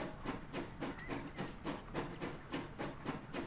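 A steam locomotive pulling out of a station in a railway-building video game set from the 1870s onward, with rhythmic chuffing bursts of hiss repeating steadily at a moderate distance and faint higher clanks above the beat.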